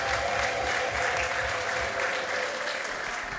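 Loud, sustained applause from a church congregation at a prophetic service, a dense continuous clatter of clapping with crowd voices mixed in, filling the whole stretch without pause.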